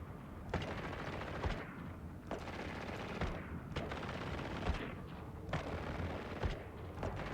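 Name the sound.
ship guns tracking and firing in EVE Online video game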